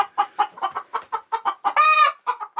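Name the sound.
chickens clucking in a large coop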